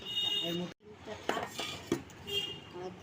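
A metal spoon clinks and scrapes against dishes while fish is served at a home meal, giving a few sharp, close taps amid soft movement and a faint murmur of voices.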